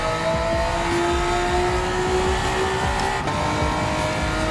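Honda NSX race car in Gran Turismo 7, its engine holding a loud, steady high-pitched drone with a slowly rising tone, edged by faint tire noise throughout.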